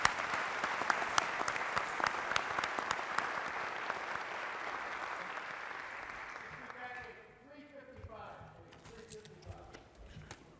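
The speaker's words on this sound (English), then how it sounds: "if everybody could give a round of applause for their effort" An audience at an Army medical symposium applauds a panel with a sustained wash of clapping for several seconds that gradually thins out and fades, giving way to scattered movement and voices.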